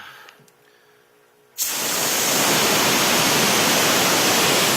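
Pressurized air and water burst out of a drained water separator on an air compressor line, a loud steady hiss that starts abruptly after a quiet moment and holds close and strong to the end.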